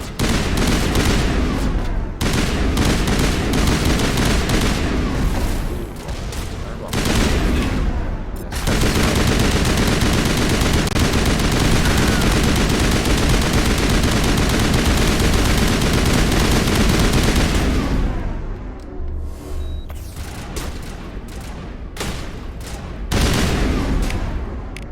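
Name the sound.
gunfire in a shootout, from the video game Mass Effect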